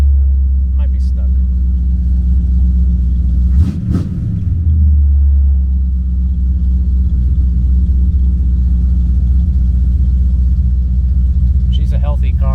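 Engine of a 1975 Corvette C3 project car idles steadily throughout, a loud, even low rumble with a brief surge near the middle and no talk over it.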